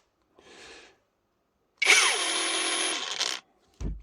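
Parkside cordless angle grinder, restored with a replacement control board, whirs up briefly after its battery is inserted, then runs with a steady high motor whine for over a second before cutting off, followed by a short click.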